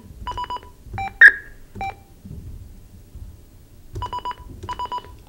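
Telephone dialing tones during a phone call on a radio show: short electronic keypad beeps in two clusters separated by a quiet gap, loud and close, with faint background noise and no speech.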